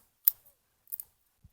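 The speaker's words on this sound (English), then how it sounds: "This is a special scissor for roots." Bonsai root scissors snipping the roots of an established bonsai during repotting, two or three crisp, close cuts separated by short pauses.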